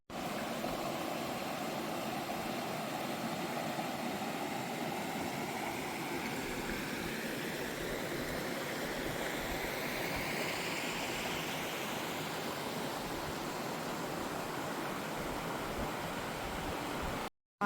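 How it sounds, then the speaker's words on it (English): A forest river with small waterfalls in Coromandel Forest rushes in a steady, even roar from start to finish. The water sounds fairly near, with no voices over it. "And here's the river."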